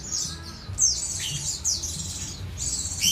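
Pleci birds, bereng white-eyes, chirping in a small group of about eight: bright high squeaky calls in short bursts repeating every second or so, close and clear over a faint low background rumble.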